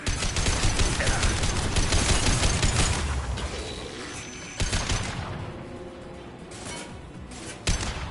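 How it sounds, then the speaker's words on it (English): Heavy gunfire in Mass Effect 2, a loud, continuous volley of overlapping shots for the first few seconds that thins into scattered bursts and a final sharp crack, with no voices over it. "Good shooting, Gareth."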